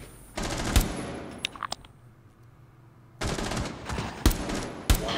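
Gunfire in the video game Rainbow Six Siege, with two rapid automatic bursts punctuated by sharp louder shots, separated by a short lull with scattered clicks, loud and close.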